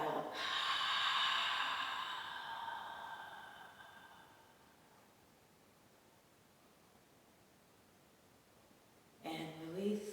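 A long, slow exhale during a gentle yoga session, breathy and soft, fading gradually over several seconds into quiet room hiss before a voice briefly starts speaking at the end.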